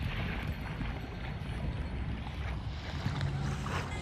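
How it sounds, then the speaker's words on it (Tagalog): Boat engine rumble with wind and water noise on an island-hopping trip in Subic, a steady low drone continuing throughout with no talking. "So ayan yung bangka na pupuntahan namin."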